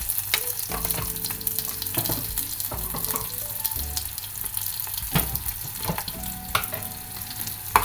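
Green chillies with curry leaves and salt fry and sizzle in a pan for a spicy buttermilk curry, stirred with steady scraping clatter, close and fairly loud, with faint running water now and then and no talk.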